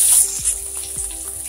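Chopped onions hit hot tempering oil in a pan on a high flame, making a steady bright sizzle with a few soft scrapes and clinks, close and fairly loud, and no voices.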